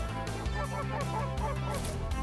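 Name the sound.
geese honking on a lake during a goose hunt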